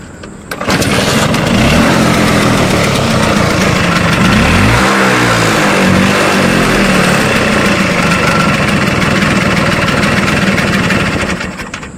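A 1996 Vespa Exclusive 2 scooter engine, kick-started, fires up after a brief pause and runs loud and close with a steady buzzing idle and a slight rev, alone for about eleven seconds.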